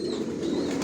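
Racing pigeons coo softly and steadily in a loft where stock birds are kept at rest, a low continuous murmur close by with no talk.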